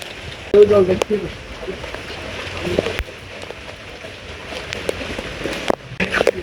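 Steady rain patters on a surface throughout, with people talking briefly over it and a few sharper drops or knocks.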